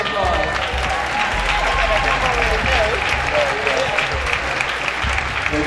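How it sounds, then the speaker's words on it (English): A crowd at a Bermuda Idol singing-competition show claps loudly and continuously, with dense, sustained applause and cheering voices mixed in throughout. "Please give him a round of applause."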